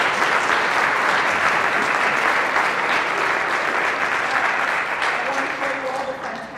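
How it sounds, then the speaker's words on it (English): An audience at an academic plenary gives sustained, even applause for an award recipient, a thick wash of clapping that holds steady and begins to thin toward the end. "I would like to have a big round of applause for Peter."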